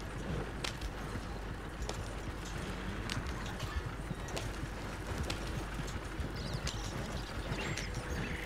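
A horse's hooves clip-clop steadily along a trail in the Red Dead Online video game, a close, continuous rhythmic clatter over rustling ambient noise.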